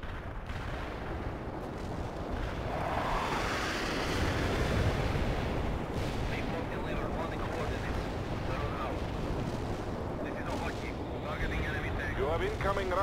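Incoming artillery in the World in Conflict game, a thick rumbling barrage of blasts and debris over battle noise, loud and sustained, with a voice speaking over it.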